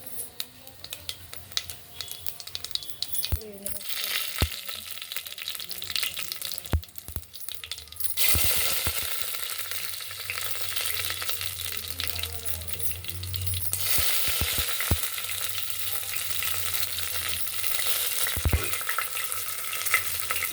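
Mustard seeds and cumin sizzle in hot frying oil with a loud, steady crackling hiss that swells midway, broken by small pops and occasional clinks of stirring.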